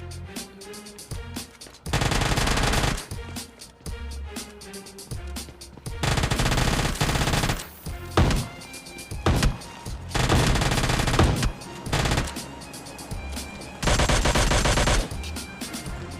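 Rapid bursts of gunfire from a Mini 14 rifle in PUBG Lite, loud, repeated volleys separated by brief pauses, with no talking over them.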